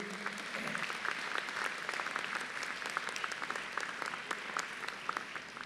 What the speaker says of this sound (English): give your family members and friends a round of applause